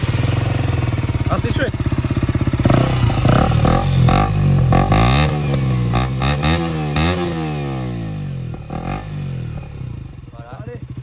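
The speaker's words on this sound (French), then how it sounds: "petit démarrage histoire de vous faire écouter un petit peu le son de la moto" A 2024 KTM RC 125 motorcycle starts with an electronic starter press, clattering briefly before settling into an idle with rising and falling blips of throttle, loud and close, with a voice speaking briefly over it.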